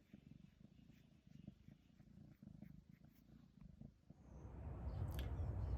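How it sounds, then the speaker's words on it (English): A cat purrs softly and close in a rhythmic rumble of steady breaths, then a louder rustling or handling noise builds toward the end. "Are you purring?"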